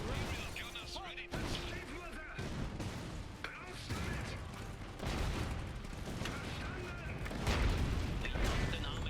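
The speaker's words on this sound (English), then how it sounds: "Incoming artillery." Artillery shells thud and boom repeatedly in the real-time strategy game Iron Harvest, mixed with bursts of gunfire and mechanical clatter under steady voiced unit chatter, heavier blasts swelling near the end.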